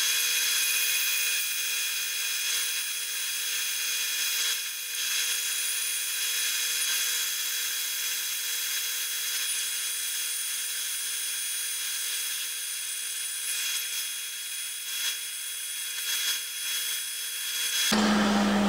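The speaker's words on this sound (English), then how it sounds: "This is my basic Craftsman bandsaw, you know, 10 inch bandsaw." A basic Craftsman 10-inch bandsaw cuts steadily through wood for a guitar neck, giving a continuous high whine and hiss that holds for about eighteen seconds before stopping abruptly at the end.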